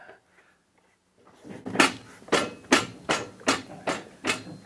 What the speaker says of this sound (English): the concern was really the banging noise when it first fired up